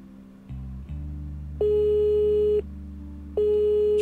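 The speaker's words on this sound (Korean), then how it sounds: "전화가 걸리네요" Telephone ringback on a call placed in the puzzle game Cube Escape, two long steady electronic tones separated by a pause, over a low hum, no talk.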